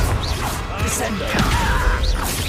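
A Descendo spell slams an enemy down in Hogwarts Legacy during a hard-difficulty fight, a loud crashing whack set among busy combat effects and a continuous layer of game noise.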